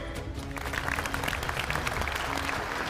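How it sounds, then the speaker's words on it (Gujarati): Crowd at a village wrestling competition applauding a wrestler, a continuous spread of clapping at moderate distance, fairly even throughout. "તાળીઓ પાડો દામોદરભાઈ માટે"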